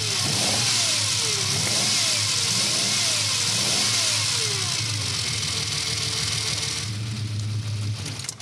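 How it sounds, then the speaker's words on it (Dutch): A 1951 Ferrari 212 Export Vignale Berlinetta V12 revs repeatedly from idle, a loud, close series of rising and falling engine blips settling into a throbbing idle, with no talking. "En weet je hoe dan zo'n 12-cilinder loopt in 1951?"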